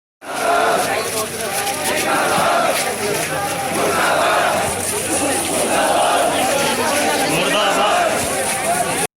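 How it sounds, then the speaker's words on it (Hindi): A funeral procession crowd of thousands chanting patriotic Hindustan Zindabad slogans produces a dense, loud, continuous roar of many voices, with shouted calls rising and falling over a constant wash of crowd noise. "अंतिम यात्रा में उमड़ी हजारों की भीड़ हिंदुस्तान जिंदाबाद के नारे लगाती हुई चल रही थी"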